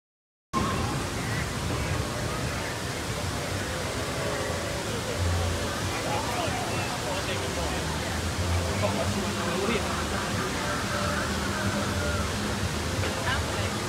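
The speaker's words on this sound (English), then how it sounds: "That is the log flume." A steady broadband roar of rushing water comes from the log flume ride at Universal's Islands of Adventure, heard from nearby and running unbroken, with faint crowd murmur mixed underneath.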